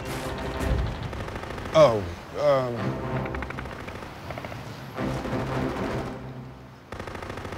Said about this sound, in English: And they got some kind of heavy artillery, 50 caliber or bigger.